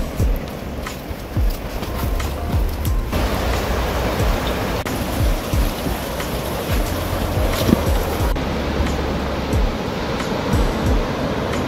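Ocean surf at Otter Point on the Oregon coast rolls in as a constant broad wash of waves with some wind, heard from a trail above the beach, with no talking.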